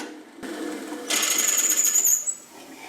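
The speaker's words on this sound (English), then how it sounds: "So I don't wear gloves when I'm using the drill press." Drill press boring into a wooden board, heard as a sharp, high whine that sets in abruptly, holds for about a second, then winds down over a low background hum.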